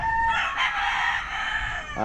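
A backyard-farm rooster in Ibaan, Batangas crows loudly and close, one long call with hens clucking around it.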